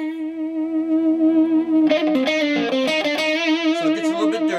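Electric guitar played through a Monkey FX distortion pedal with neck and bridge pickups, a sustained clean-ish chord giving way to gritty, overdriven strummed notes as the volume rises, loud and alone.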